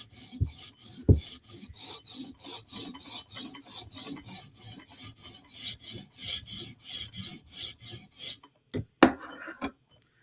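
A custom Para 3 knife is sharpened on a TSProf Kadet system, with a long run of quick, regular rasping strokes of the stone against the steel, followed by a few louder, slower strokes near the end.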